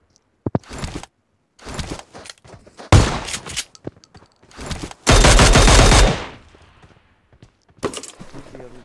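Video game gunfire comes in several loud bursts of rapid shots, including one long sustained volley near the middle, separated by short quiet gaps and softer footstep-like thuds.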